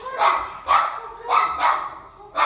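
Indoor dog Charlie barks at a repairman upstairs, four or five loud, evenly spaced barks close by, with no pause in the rhythm.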